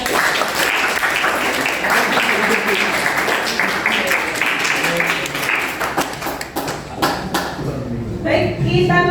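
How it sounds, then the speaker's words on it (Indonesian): Sustained classroom applause from a vocational-school coding and artificial-intelligence lesson, with many hands clapping steadily for about nine seconds, some voices mixed in, and the clapping thinning briefly before picking up again. "Oke, tepuk tangan."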